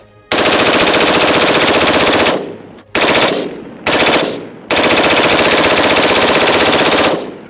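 Automatic gun firing long rapid bursts, four sustained strings of shots broken by short gaps, very loud and close, with no speech over the firing.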